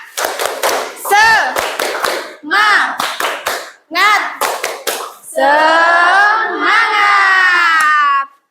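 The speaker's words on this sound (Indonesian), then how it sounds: "Oke, kita tepuk semangat bisa? Mulai ya, 1, 2, 3, tepuk semangat." Classroom group doing the rhythmic 'tepuk semangat' clap: sharp patterned bursts of hands clapping in quick sets with short pauses, then a long stretch of children chanting together loudly.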